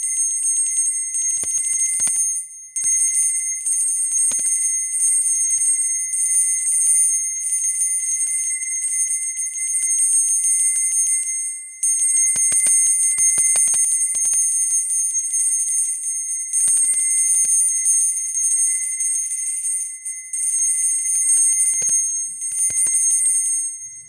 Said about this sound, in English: some people prefer to use tuning forks, but I've always used the bell, to each their own